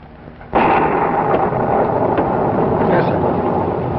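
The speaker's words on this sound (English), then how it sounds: "I'm worried about that storm." Thunderstorm sound effect in a radio drama: a sudden loud rumbling roll of thunder breaks in after half a second and keeps rumbling heavily with rain-like hiss to the end, with no voices.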